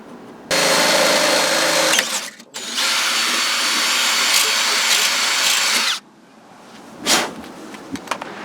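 A power drill whirs loudly in two sustained bursts, drilling a hole in a BMW E36 M3, with a brief stop between, then cuts off, followed by a few scattered clicks and knocks.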